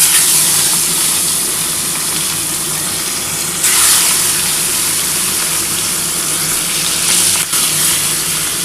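Pomfret fish pieces fry in hot oil with a steady, loud hiss and crackle that holds throughout, briefly flaring louder as they are moved.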